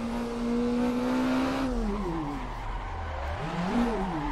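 Nissan 180SX competition drift car driven in the Assetto Corsa racing game: a steady, loud engine drone with harmonic whine that drops and climbs again as revs fall and rise, with a faint tyre hiss beneath.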